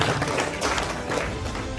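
Applause from a seminar audience at an investment business-plan presentation: a dense, steady wash of many hands clapping together, moderately loud and continuous throughout, with no clear pauses.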